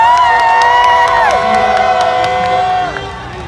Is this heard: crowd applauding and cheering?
yes